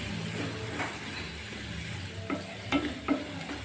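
Onions sizzle steadily in a hot pan while a utensil stirs and scrapes them, with a few sharper clicks near the end.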